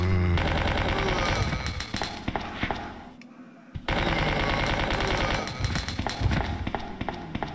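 Rapid machine gun fire from the video game Resident Evil 2 rattles in dense, loud bursts, broken by a brief pause near the middle before the automatic firing resumes.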